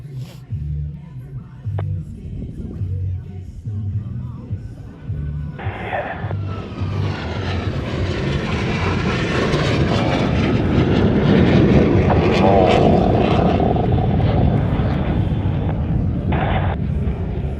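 U.S. Navy Blue Angels jets fly at an airshow, a distant rumble that builds into a loud, sustained jet roar over crowd ambience, with a few brief sharp bursts along the way.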